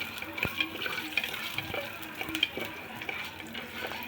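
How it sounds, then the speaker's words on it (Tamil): A handful of broad beans (mochai) fry in oil in a pressure cooker, giving a steady close sizzle broken by scraping stirs and clicks of a spoon against the pot. "நான் வந்து ஒரு கைப்பிடி அளவுக்கு மொச்சக்கொட்டை எடுத்து அதை வந்து ப்ரௌன் கலரில் வர வரைக்கும் வறுத்துக்க போகிறேன்"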